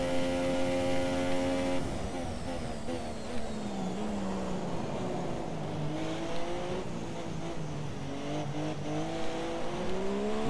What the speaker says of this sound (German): So übertrieben Gas geben.